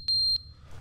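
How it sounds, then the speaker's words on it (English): Two loud, high electronic alarm beeps in The Stanley Parable (Ultra Deluxe) video game, each lasting about a quarter second, sounding close and clear over a low background hum with no talking. "Aha, to je ovaj alarm."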